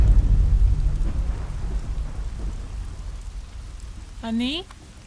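Steady heavy rain pours with a deep low rumble of thunder, loud at first then settling into a continuous hiss, with a brief electronic tone near the end.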